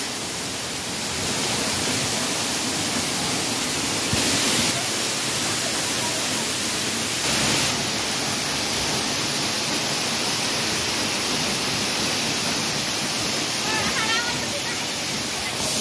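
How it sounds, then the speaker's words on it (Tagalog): The Ng Tung Chai waterfall pours steadily, a broad, loud hiss of flowing water that fills the whole scene without a break, with faint voices at moments beneath the roar. "Ang ganda ng agos ng mga tubig."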